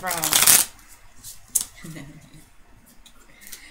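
A small Rider-Waite pocket tarot deck is shuffled in a quick riffling burst, followed by softer card snaps and slides as cards are pulled, close and crisp.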